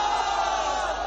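A political rally crowd at a PML-N jalsa in Bahawalpur, Pakistan, roars a slogan together in one loud, sustained mass of voices.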